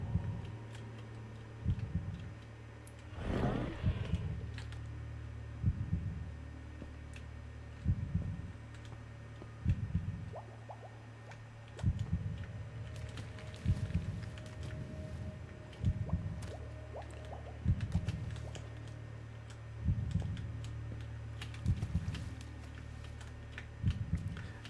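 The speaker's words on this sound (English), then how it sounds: "The heartbeat you can hear in the background is specific. It is part of the game telling you how close to death you are." The low warning heartbeat in Minecraft that signals nearness to death: a regular, thudding double pulse repeating every couple of seconds in the background, with faint game sounds around it.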